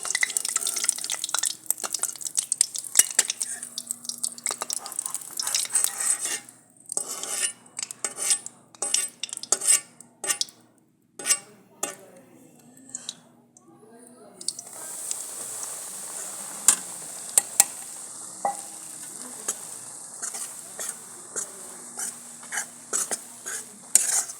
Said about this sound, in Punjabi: ਆਪਣਾ ਘਿਓ ਗਰਮ ਹੋ ਗਿਆ ਤੇ ਹੁਣ ਆਪਾਂ ਬੇਸਣ ਪਾਵਾਂਗੇ